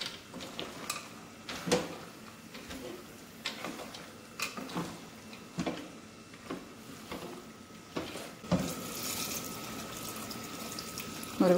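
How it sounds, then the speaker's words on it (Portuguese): Water is poured into a pot to cover penne cooking in a bolognese meat sauce, a soft running splash with scattered clinks and taps of kitchenware, fairly quiet and close, with no one talking. "Agora eu vou colocar água assim até cobrir."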